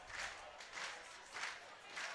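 Polite applause from the home crowd at a German Football League American football game between the Stuttgart Scorpions and Kirchdorf Wildcats, heard as several soft rolling swells of distant clapping, with no voices over it.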